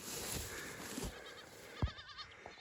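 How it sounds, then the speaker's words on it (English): Goats bleat on a farm while grazing on thistles among a flock of sheep, a single sharp wavering bleat cutting through steady outdoor background noise, with a few softer rustles and calls around it. "Goats are eating our thistles."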